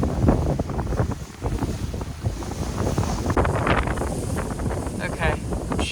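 Strong desert wind in Anza Borrego, gusting up to 70 miles an hour, buffets the microphone with loud, continuous rumbling and roaring gusts that swell and ease. A voice can be heard faintly under the noise.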